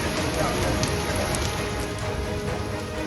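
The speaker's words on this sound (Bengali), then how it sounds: "তুমুল বৃষ্টি সঙ্গে প্রবল ঝোড়ো হাওয়া।" Heavy rain pours down across Kolkata, a dense, constant roaring hiss of water striking surfaces that stays loud and even from start to finish.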